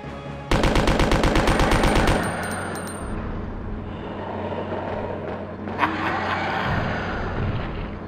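A rapid burst of automatic gunfire rattles loudly in the PS1 video game Resident Evil 2, followed by continuous engine-like rumble, a sharp single shot, and more mechanical noise.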